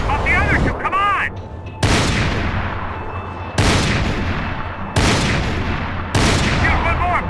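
Heavy gunfire in Max Payne 3, four loud booming volleys of automatic shots, each starting sharply and tailing off, while voices shout in between.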